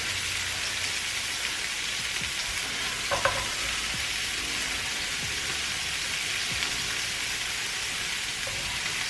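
Onion, mushrooms, rosemary and apple slices fry in a pan with a steady, soft sizzle and crackle, a brief clink of utensil partway through, no voices.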